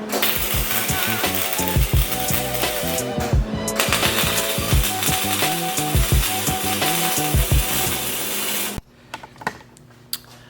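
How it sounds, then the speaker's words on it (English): Welding a bicycle onto the frame of a 420cc off-road drift trike produces a continuous crackling, buzzing sputter close up for about nine seconds, then it cuts off abruptly, leaving a few faint metallic clinks. "As you saw, I just welded on the bike to the frame."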